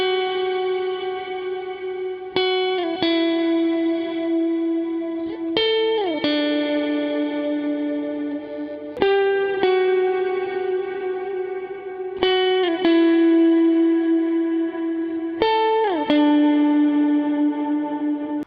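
A Squier Stratocaster electric guitar with stock pickups rings out on a clean tone with a bright, biting top end. Sustained chords and notes change roughly every three seconds over a continuous ringing bed, and no voice is heard.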